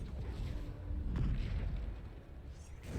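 Bombarda explosion spells burst in Hogwarts Legacy combat, a sustained rumbling low boom swelling over about a second and a half amid dense battle noise, with a sharper crack near the end.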